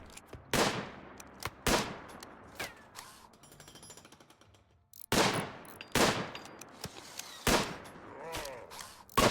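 Rifle gunfire in the RimWorld video game: loud, sharp single shots ring out one at a time at uneven intervals, each decaying quickly, with a brief softer mechanical rattle between volleys.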